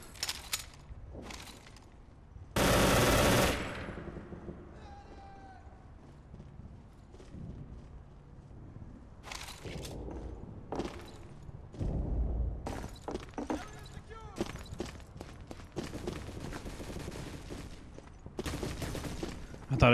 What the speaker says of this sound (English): the most powerful German machine gun back in World War II, and the most powerful machine gun actually in the game too.